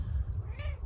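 A cat gives a single short meow, close and fairly soft, over a low rumbling background like wind or handling noise during an outdoor walk.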